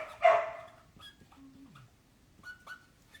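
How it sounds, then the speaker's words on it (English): A dog barks in the background of a room during a fan Q&A session: one clear near bark, then a few fainter yips and whimpers, quiet and sparse, with no talk over it. "That is my dog in the background named Corky."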